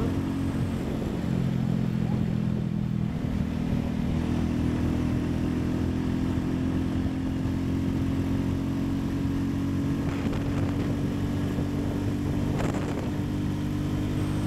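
A Royal Enfield Classic 350 motorcycle engine runs steadily for the whole stretch, with a deep, continuous thumping rumble and brief throttle blips near the end, loud and close without speech.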